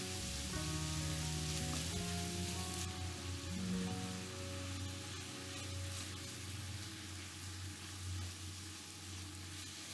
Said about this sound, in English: We're just looking to brown this meat for the time being.